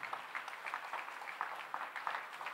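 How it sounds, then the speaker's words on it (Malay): An audience at a Melaka state ceremony for outstanding students claps steadily, a dense run of hand claps heard from a middle distance at moderate volume. "eloklah hadirin hadirat kita berikan tepukan yang paling gemuruh kepada anak-anak yang"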